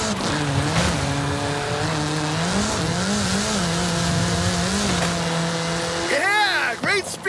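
Car engine revving and accelerating in the video game Forza Horizon 5, a loud steady drone that climbs and dips in pitch, then quick sweeping revs near the end, with a voice talking over it.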